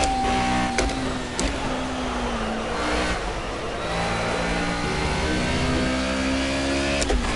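A race car engine in the Project Cars racing game revving steadily, with throttle swells and sharp gear-shift clicks over a continuous mechanical drone at moderate loudness, no voices.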